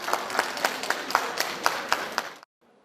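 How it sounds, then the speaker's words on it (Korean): A crowd at an airport arrival gate claps in a rhythmic burst of applause as 316 returning detained workers walk out, then the sound cuts off abruptly into near silence. "박수갈채가 쏟아집니다."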